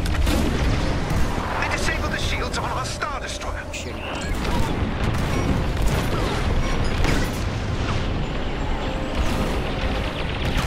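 Spaceship blaster fire and explosions in the video game Star Wars Squadrons, a dense, loud barrage of shots and booms with engine rumble, and a voice talking over it.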